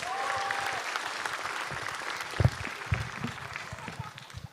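Studio audience applauding a stand-up comedian at a comedy competition show, sustained clapping from a crowd with a couple of louder bursts midway and some voices mixed in.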